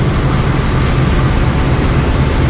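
A 1977 CC 201 diesel locomotive from the Sidotopo depot hauls the Bengawan train of nine economy-class carriages and a dining car, a steady loud rumble of engine and rolling wheels droning without a break.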